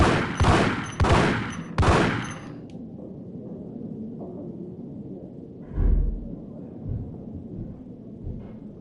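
Three loud, close gunshots from the video game Max Payne, evenly spaced in the first two seconds, then low game ambience with a few softer thuds.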